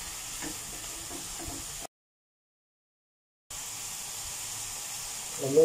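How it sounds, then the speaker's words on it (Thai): Carrots are stir-fried with minced pork and fresh shiitake mushrooms in a pan, making a soft, steady sizzle with light stirring, broken by a stretch of silence midway before the frying resumes. "เดี๋ยวพอเริ่มสุกก็ใส่แครอทลงไปผัดก่อน"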